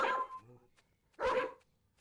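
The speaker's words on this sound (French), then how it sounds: "arrête d'aboyer là" A dog in the video game Dog World gives two loud, close barks about a second apart, with a short whimpering tail after the first.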